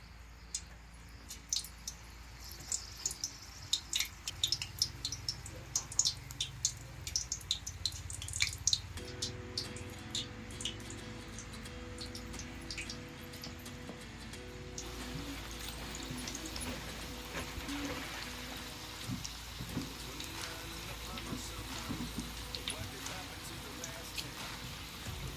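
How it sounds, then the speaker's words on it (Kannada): Bajji fritters are dropped one by one into hot oil in a village kitchen, with early drips and soft splashes giving way to a steady, close sizzle as a voice talks over it. "ಇನ್ನು ಬಜ್ಜಿ ಬಿಡೋಣ್ರಿ ಒಂದೊಂದಾಗಿ."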